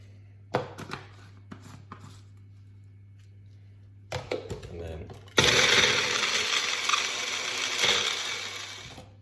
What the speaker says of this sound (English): whack it into one of these kind of food processor or whatever